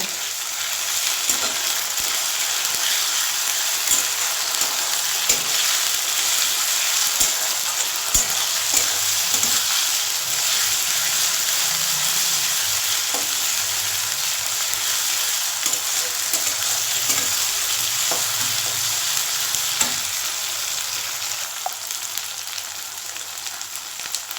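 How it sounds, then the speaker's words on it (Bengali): A spoonful each of ginger paste and garlic paste frying in hot oil in a pan, a steady loud sizzle that runs throughout, dotted with faint clicks from stirring and no voices. "আদা বাটা রসুন বাটা এটা দিয়ে একটু ভেজে নেব"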